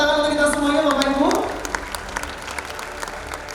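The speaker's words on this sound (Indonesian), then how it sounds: "Tepuk tangan untuk kita semuanya Bapak Ibu." Audience applause at a halal economy event in Indonesia begins under a voice that is still speaking, then carries on as scattered, moderately loud clapping after the voice stops.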